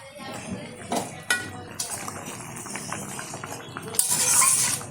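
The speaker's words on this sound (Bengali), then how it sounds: "ঢাকনাটা তুলে দিচ্ছি" A metal lid lifts off a cooking pot of katla fish curry with potato and eggplant, giving sharp clinks and clatter amid kitchen noise, followed by a bright hiss near the end.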